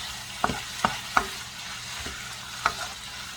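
Potato filling for twice-baked potatoes is stirred in a pan, giving four sharp scraping clicks at uneven intervals over a faint, steady sizzle, with no talking.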